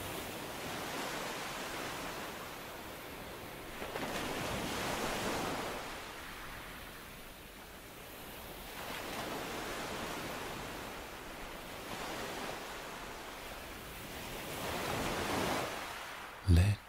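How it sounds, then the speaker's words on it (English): Gentle ocean waves washing on a shore, soft broad surges swelling and receding roughly every four seconds in a slow calm rhythm, with no voices. "Let yourself become one with the gentle curl of the waves, the sky that touches the horizon."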